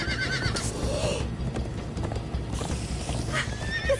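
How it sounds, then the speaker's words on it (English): Galloping horses in the Minecraft Story Mode video game pound out fast, rhythmic hoofbeats through busy game sound, with neighing and whinnying breaking in at moments. "Come on, horses!"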